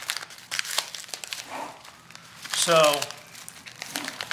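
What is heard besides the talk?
crinkling wrapper of a super skin bandage pack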